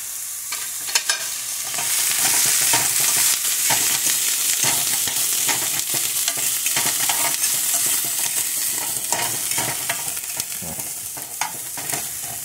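Garlic sizzles and crackles in a hot pan for tomato sauce while a utensil stirs and scrapes it in repeated strokes, close and loud with no talking.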